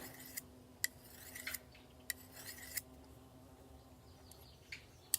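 A knife is worked by hand against a sharpening surface: faint, intermittent metallic scrapes and sharp clicks at irregular intervals, close by and quiet, with no talking.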